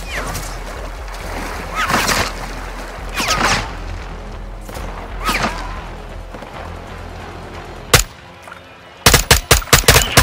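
Video game firefight with bursts of gunfire and sharp shots recurring through the clip, ending in a rapid cluster of loud close reports after a brief lull.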